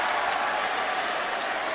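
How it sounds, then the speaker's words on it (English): A basketball arena crowd gives a loud, continuous ovation of dense applause and cheering that fills the space from start to end. "The ovation for DeJuan Harris"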